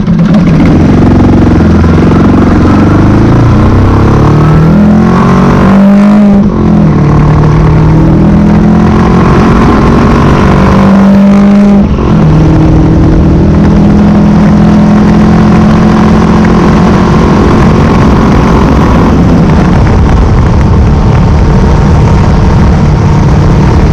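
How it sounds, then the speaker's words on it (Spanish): Royal Enfield Meteor 350 motorcycle with its new engine, a loud, close, continuous thumping exhaust note that idles, revs up and shifts through gears for a sustained stretch, with no voices. "a pesar de tener un nuevo motor, el sonido característico de Royal permanece"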